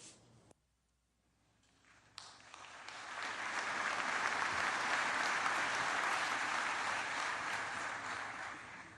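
Applause from the crowd at a Memorial Day wreath-laying ceremony for the band and chorus, starting after a brief quiet gap, then swelling into steady, dense clapping that holds loud and sustained to the end.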